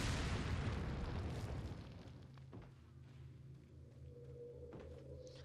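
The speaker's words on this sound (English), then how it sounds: "when you shoot someone with this rocket launcher, there's just nothing left" A rocket launcher blast in Resident Evil 4 at the farm, one loud booming explosion up front that rumbles and decays over a couple of seconds into quieter ambient hum with faint scattered clatter.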